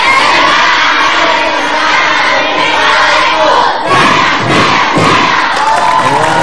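A studio audience at an Indonesian television talk show shouts back at the host in a loud, sustained roar of many voices, with a couple of surging bursts near the end.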